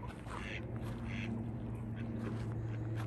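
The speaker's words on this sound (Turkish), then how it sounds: "Ördekler de var bakın" Ducks quack on a pond beside a forest walking path, a few short calls heard at a moderate distance over a steady low background hum, with faint speech in places.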